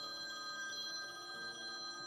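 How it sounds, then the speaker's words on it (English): A telephone rings with an incoming call in a garage where a classic VW Beetle is being worked on, a steady electronic ring tone held evenly throughout the short stretch, with no voices. "especially since I'm getting a phone call"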